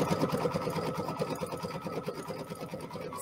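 An embroidery machine stitches a spring floral design, its needle hammering in a fast, steady rhythm with a motor hum underneath, close and continuous throughout with no talk.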